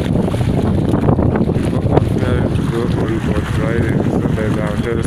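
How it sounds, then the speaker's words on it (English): Strong wind at a lake in Kisumu roars and buffets the microphone steadily throughout, with rushing water and a faint voice underneath. "So guys, so much windy here today. So much wind."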